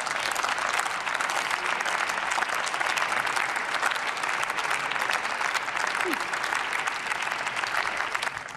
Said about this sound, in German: Applaus von allen Fraktionen.